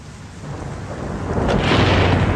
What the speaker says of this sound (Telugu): వాన మొదలైంది.